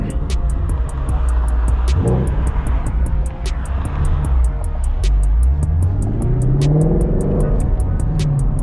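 A 2018 Ford Mustang Shelby GT350 is driven under a bridge, its exhaust rumbling steadily and rising in pitch through a couple of revving pulls, loud and close with a faint echo.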